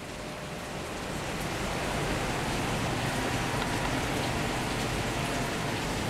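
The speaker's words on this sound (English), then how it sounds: "If you hear that, it's really raining outside." Steady rain pours down, a dense continuous hiss of drops on surfaces that swells slightly after the first second and holds even, with no voices.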